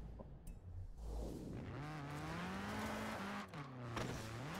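Engine of a car driving in Forza Horizon 4, a steady revving drone that climbs and dips in pitch as the car accelerates and shifts, with a brief tire-like burst near the start.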